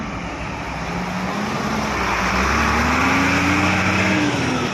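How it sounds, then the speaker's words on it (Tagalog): A dump truck engine in Pakistan, on a foggy day, rumbles past with a steady low drone that swells louder in the middle and stays prominent over continuous road noise. "Dump truck ng Pakistan."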